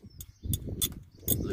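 Wheel nuts being tightened on an aftermarket wheel on a Honda Civic, a few short metallic ratcheting clicks in quick bursts, close and moderately loud, with low background noise between them.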